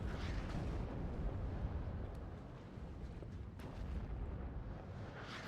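Artillery exchange in the WARNO strategy game, a dense continuous rumble of distant blasts with a few sharper bursts standing out, loud and sustained with no voices.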